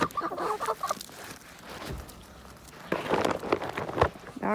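Backyard chickens cluck in short, close bursts, with quieter scuffling between the calls.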